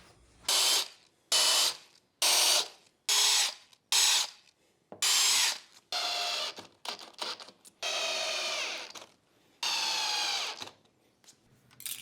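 Power drill driving screws into a glued wood block: about ten close, loud whirring bursts of a second or so each, separated by brief pauses, some rising in pitch as the screw seats, with no speech.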